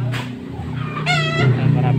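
Chickens clucking and a rooster crowing on a farm beside Laguna Bay, with a loud clucking burst near the middle over a steady low hum and nearby voices.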